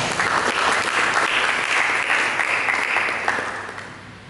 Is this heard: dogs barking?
no